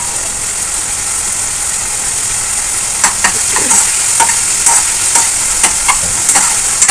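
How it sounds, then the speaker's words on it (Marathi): Onion and tomato cooking in a pan over a low gas flame give a steady, fairly loud sizzle, with scattered spoon clicks and scraping in the second half and no talking. "कांदा टोमॅटो शिजतोय बारीक गॅसवरती"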